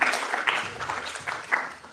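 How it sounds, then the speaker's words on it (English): Audience applause at a Singapore market outlook event as speakers come on stage for a Q&A session, moderate and fairly brief, swelling and fading in uneven bursts. "Let's give them a round of applause."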